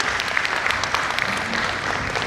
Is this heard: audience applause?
yes